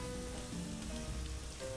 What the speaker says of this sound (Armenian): Տապակում ենք, նայեք, արդեն տապակում ենք գազարը։